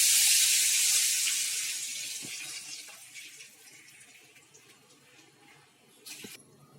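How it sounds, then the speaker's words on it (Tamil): Water is poured from a cup into a pot for red rice aval kesari, a close rushing splash that starts strong, then thins to a trickle and faint drips, with a short clatter near the end. "இப்போ தண்ணி ஊற்றிக்கலாம்."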